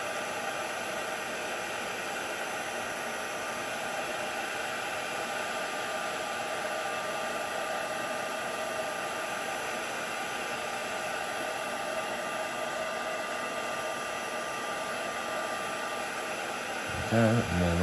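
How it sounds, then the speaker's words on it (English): A heat gun blows hot air for heat embossing on a card, a steady, close, even whoosh throughout, with a brief knock near the end. "just flip it over and just run your heat gun over the back"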